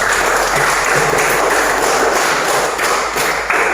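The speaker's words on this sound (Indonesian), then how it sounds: "tepuk tangan untuk kita semua" Students and teacher clap together in a classroom: a dense, continuous wash of applause that holds steady throughout, with no talk over it.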